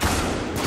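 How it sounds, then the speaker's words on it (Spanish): A shotgun fires in the shooter Spec Ops: The Line, a loud, dense blast of gunfire filling a brief moment and then tailing off abruptly. "Escopeta en acción."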